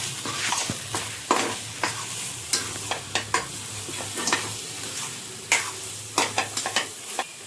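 Mutton curry masala with black spice mix is sautéed in a pan: a soft background sizzle with frequent scraping stirs and clinks of a spatula against the pan, close and unaccompanied by talk.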